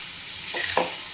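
Ginger, garlic and chili sautéed with turmeric and cumin for a chicken cocktail sausage curry crackle softly in the pan, with two quick scraping stirs over a low steady sizzle.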